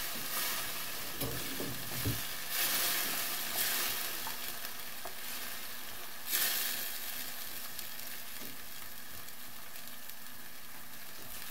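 A spoon stirring pepper, turmeric and cinnamon in a pan for Algerian white-sauce dolma, with soft scraping strokes over a steady low sizzle; quiet and close, a few sharper clicks against the pan.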